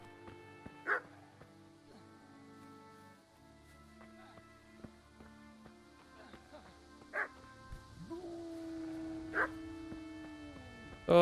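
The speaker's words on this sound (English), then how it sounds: "that's why he's barking, because he's getting frustrated" Scattered dog barks in Kingdom Come: Deliverance, roughly four sharp woofs spaced several seconds apart, with a long whine near the end, all over quiet sustained game music.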